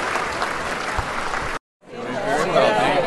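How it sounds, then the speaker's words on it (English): Audience applause at a school foundation crab feed honoring the eight founders, a steady broadband clapping that breaks off briefly mid-way, then resumes and swells again. "Please clap your hands together for these eight people who started the foundation."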